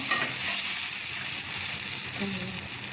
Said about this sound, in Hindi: बस अब इसको हल्का सा ब्राउन कर लेते हैं।